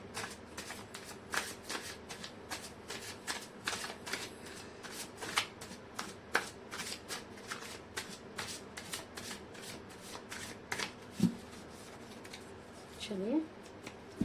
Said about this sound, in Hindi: दोबारा से शफल करते हैं।